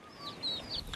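Chickens on a poultry farm in western Kenya, a faint, brief run of high clucks and calls against a soft background.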